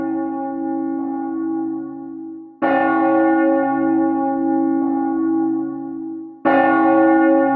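Heimdall Cathedral's church bell from the video game Trails of Cold Steel tolls repeatedly, each loud resonant strike ringing out over the lingering hum of the previous one in a slow, stately rhythm.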